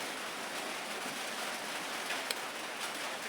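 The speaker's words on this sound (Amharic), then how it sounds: "ዝናብ ራሱ ከለከለኝ ማለት ነው። እንደሚሰማችሁ እርግጠኛ ነኝ።" Rain falls steadily outside a dirty window, a dense even patter with a few sharper drops standing out, continuous and fairly close.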